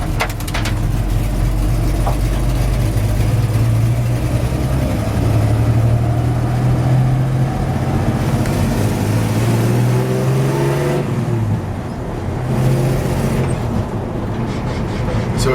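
A 1964 Chevrolet C-10 shortbed pickup drives along with a steady low engine drone and road rumble, the pitch rising and falling slightly with shifts, continuous and close throughout.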